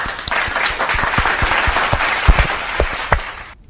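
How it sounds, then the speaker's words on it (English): A round of applause in a game setting: dense, continuous clapping with sharp individual claps popping out, fairly loud and close, ending abruptly. "Let's give him a round of applause."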